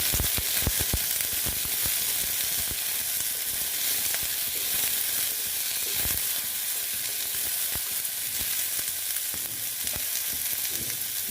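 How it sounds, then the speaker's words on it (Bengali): Potatoes frying in fish fat for a Bengali chorchori, a loud, dense, crackling sizzle that runs continuously, spiked by sharp pops and occasional stirring knocks, close up with no talk. "আমি আলুটা দিয়ে দেবো, তাহলে সেদ্ধ হয়ে যাবে।"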